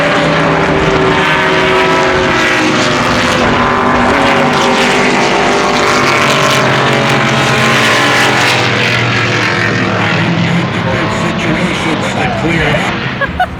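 Vintage race cars circle Canadian Tire Motorsport Park, engines droning loud and continuous with layered harmonic whine as several cars pass, close and sustained across the whole stretch.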